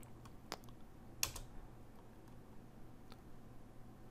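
Quiet keystrokes typing a command on a computer keyboard, a handful of sparse soft clicks with one slightly sharper tap, faint and close over a low steady hum.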